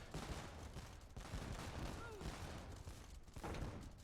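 Organ guns fire in Age of Empires II, a dense crackling fusillade of rapid shots rolling continuously over the battle din, fairly faint and mixed with other combat noise.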